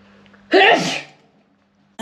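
A single loud, close sneeze bursts out after a quiet start, sharp and breathy, then fades into silence.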